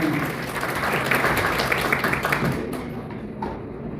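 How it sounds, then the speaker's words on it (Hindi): Loud, dense applause from a concert crowd at a tribute show in Dammam fills the room steadily, then thins and fades toward the end. "इनके लिए जोरदार तालियां होगा।"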